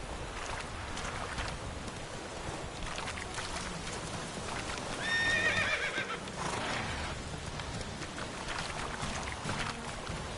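A horse in The Witcher 3 video game gives a loud whinny near the middle, with hoofbeats and game ambience running steadily throughout.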